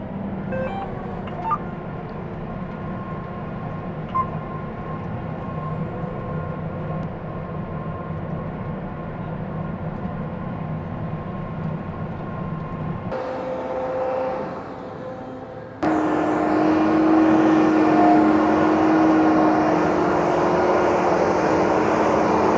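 A John Deere 9900i forage harvester cutting whole crop barley drones with a loud, steady engine and machinery roar throughout. A brief dip leads into an even louder, closer stretch of heavy mechanical noise.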